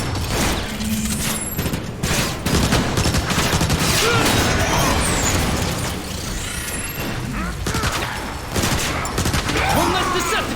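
Dense gunfire from a sci-fi shooter battle in Transformers: War for Cybertron, with snipers firing amid continuous bursts, booms and mechanical clatter, loud and sustained throughout with faint voices mixed in.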